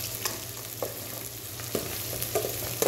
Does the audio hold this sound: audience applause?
no